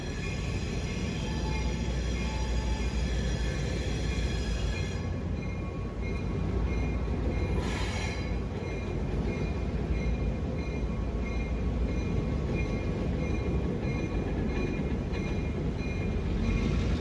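A freight train led by a chopped-nose GP9 locomotive rolls past near a rail yard in Hagerstown, Maryland, giving a steady continuous rumble of wheels and cars throughout with a faint high whine, and no voices.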